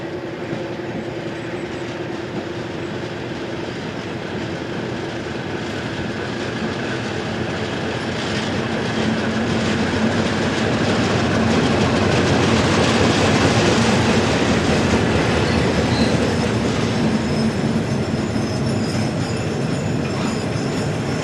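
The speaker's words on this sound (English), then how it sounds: "Trains carrying molten iron in torpedo wagons run once per hour" A steelworks train hauling torpedo wagons of molten iron rumbles past in a long, steady roll, swelling louder midway with a faint metallic squeal and rhythmic wheel clatter, no voices.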